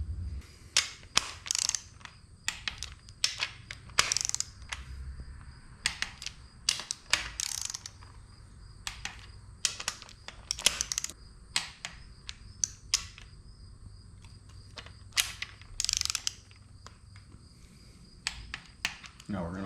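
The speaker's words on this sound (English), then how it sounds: "we're going to be tightening it to 67 foot-pounds on the main bolts" Torque wrench tightening engine main bolts to 67 foot-pounds during engine assembly: repeated sharp ratcheting clicks in short bursts, fairly close, with quiet gaps between the pulls and faint low rumble underneath.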